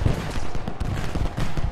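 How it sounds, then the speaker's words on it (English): Musket volleys and cannon fire from a Gettysburg battle in the strategy game Ultimate General: Gettysburg, a dense continuous crackle of massed gunfire with heavier booms mixed in, loud and sustained throughout. "apart from the cannon fire, which is one thing, and troops firing at each other"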